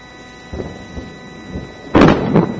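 Thunder from a South Dakota supercell storm following a lightning bolt: faint low rumbles, then a sharp, loud crack near the two-second mark that rolls briefly into a second boom, with no voices.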